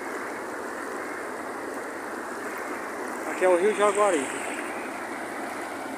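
Water flows steadily at the Jucás dam on the Jaguaribe river, a continuous broad rush of loud water heard through the whole stretch, with someone speaking briefly over it.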